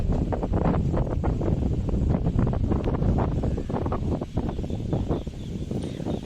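Strong wind from Cyclone Yaas blows steadily and loudly throughout, a dense broadband roar with gusty buffeting against the microphone.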